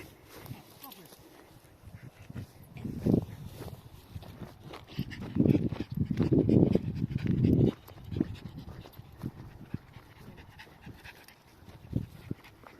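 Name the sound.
dog panting and moving around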